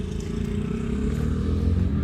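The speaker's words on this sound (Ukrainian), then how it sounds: "Тракторець перевірений, їде наружен." Shifeng SF 354 mini tractor driving loaded, a steady low engine drone that stays close and even throughout with no voices.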